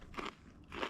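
Spicy shiitake mushroom chips crunch in two sharp, close bites about half a second apart, with quiet pauses around them.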